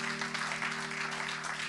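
A church congregation applauds together during a service, a steady dense wash of clapping that runs without a break, with a low constant hum underneath.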